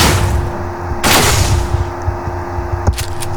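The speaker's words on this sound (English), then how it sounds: "I think I showed you the shotgun. Just fire a bunch of them." Shotgun fire in the video game Mass Effect, a few sharp blasts, one heavy burst near the start and a couple of crisp shots later, over a constant low game hum.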